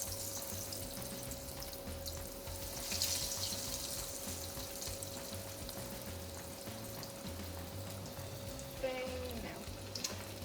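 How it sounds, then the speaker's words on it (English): Homemade breaded mozzarella sticks frying in hot oil, a soft continuous sizzle and bubbling hiss at low level with a steady background hum throughout. "So now you're gonna fry these just until you get kind of a golden brown"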